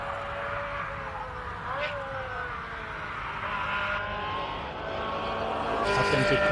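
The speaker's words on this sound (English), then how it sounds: "Let's listen to this glorious V8." A Ferrari F355 V8 climbing a hill-climb course, its engine note rising and shifting through gears as it passes at moderate distance, fading and returning over steady background noise.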